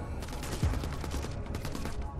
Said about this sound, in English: Let those bullets fly.